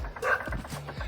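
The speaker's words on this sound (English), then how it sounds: "neighbor's dogs" Neighbor's dogs barking outdoors in a short burst of a few quick, moderately loud barks at mid distance, with no talk over them.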